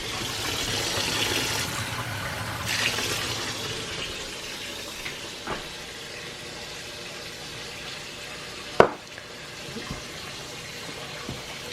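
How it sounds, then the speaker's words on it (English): Water is added to sticky flour tortilla dough in a home kitchen, a soft running and trickling wash that fades, followed by a few faint clicks and taps of handling. "So this is kind of still sticky, so I'm gonna put a little bit more of water."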